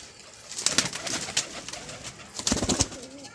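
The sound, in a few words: pigeons cooing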